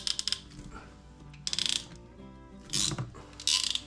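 A crimp tool working a ring onto a hose fitting in a workshop: quick bursts of close metallic ratcheting clicks come in three or four short groups with brief pauses between, loud and with no talk over them.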